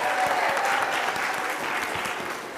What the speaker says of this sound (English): Let's hear a big, round of applause for that